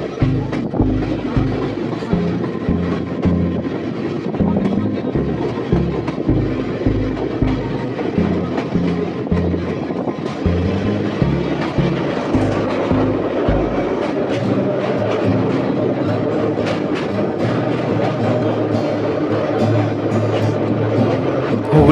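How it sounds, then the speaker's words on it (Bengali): Teesta Torsa Express passenger train crossing the Hooghly river bridge, a loud steady rumble with rhythmic clattering of wheels over rail joints, heavier and choppier for the first half, with wind buffeting throughout. "এখন আমাদের ট্রেন হুগলি নদী পার করে হুগলি জেলায় প্রবেশ করতে চলেছে।"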